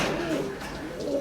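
Pigeons in a breeding loft cooing softly, with low warbling calls repeating over a faint room background and no talk.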